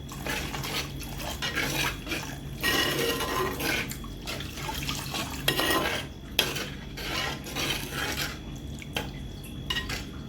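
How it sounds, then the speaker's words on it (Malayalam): Water goes into thick masala gravy in a pan for a fish curry. The liquid splashes and trickles close up, mixed with the clatter of a metal pan and utensils being stirred in quick, uneven bursts. "അതിനകത്ത് നമുക്ക് മീൻ വേകാൻ ആവശ്യമായിട്ട് ചാറിനുള്ള വെള്ളം ഒഴിച്ച് കൊടുക്കാം"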